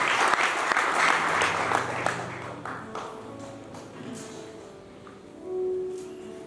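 A church congregation breaks into loud clapping that starts strong and fades over several seconds, with a few voices mixed in.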